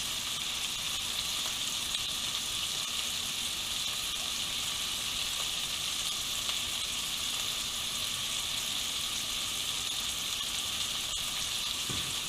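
Filet steak searing in a hot cast iron pan at home, a steady, even sizzle and crackle that stays loud and unbroken throughout, with no talking.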